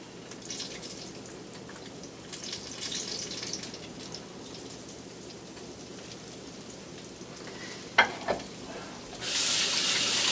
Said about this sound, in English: We'll go over into my oil, my hot oil. I'll drop them off in there.